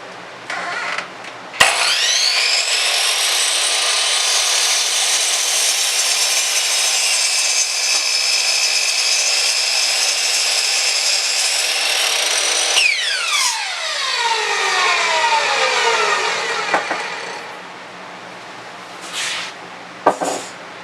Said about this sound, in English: it'll cut a really, really nice clean cut with your carbide tip blade